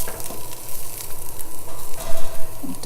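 Chopped onion dry-roasting in a pan on a stovetop, a steady, close crackling sizzle with soft scraping and stirring sounds running throughout.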